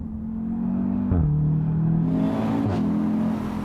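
An Audi TTS Roadster or Audi S3 Cabriolet engine idles with a deep exhaust rumble, then revs twice in sharp blips, heard close up from inside the car.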